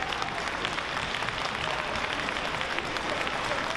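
Wrestling crowd cheering for Cody Chung, a dense steady roar of voices and applause filling the arena with no letup.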